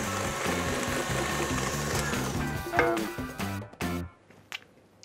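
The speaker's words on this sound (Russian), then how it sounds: "Включаем миксер." An electric kitchen mixer whirs close by with a steady rhythmic mechanical chatter, which then stutters and cuts out into near silence with a few knocks near the end.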